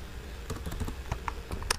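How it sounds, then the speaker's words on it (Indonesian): Quiet, close clicking of keys being typed on a computer keyboard, a quick irregular run of soft taps over about two seconds with no talking. "Tinggal diketik aja"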